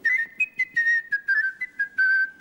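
A person whistles with the tongue, producing a rapid series of clear, bright tonal notes in short bursts with brief gaps, close and fairly loud, with no talking.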